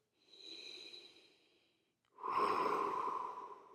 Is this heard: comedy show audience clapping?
no